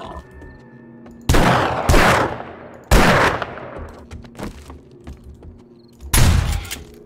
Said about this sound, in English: Does it not like the shotgun firing?